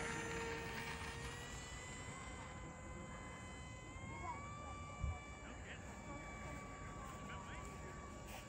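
An A-6 Intruder electric ducted-fan RC jet whines at an electric fly-in, its high, steady tone rising and gliding in pitch at moderate distance over constant outdoor background noise.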